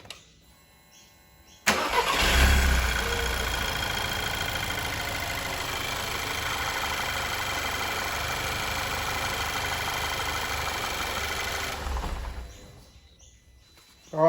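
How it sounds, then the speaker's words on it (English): An Audi A3 engine cranks and catches abruptly, then idles steadily for about ten seconds after an oil and filter change before shutting off and falling quiet. "start the engine, prime the filter, we'll let it run"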